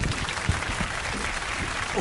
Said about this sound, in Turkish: O güzel alkışlarını sevgili Serkan Ertan için efendim.